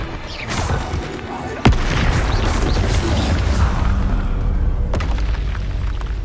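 A Confringo spell blast in Hogwarts Legacy lands with a sharp crack and a heavy boom, then a loud, sustained rumbling roar continues, with a second fainter crack near the end.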